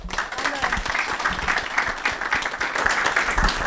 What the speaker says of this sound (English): just a round of applause for all our speakers today